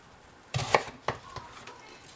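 A knife slices an onion into half-moon pieces on a cutting board: a handful of crisp, irregular thuds spread over two seconds, fairly quiet and close, with no speech.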